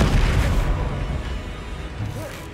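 A Confringo blasting spell in Hogwarts Legacy explodes in a heavy, booming burst with a deep rumble that fades, followed by a smaller pop near the end.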